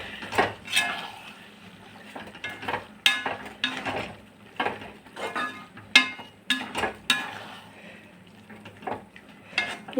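Toor dal and ground coconut paste being stirred together into a pachadi, a spoon scraping and clinking against the pot in irregular bursts, close and fairly quiet.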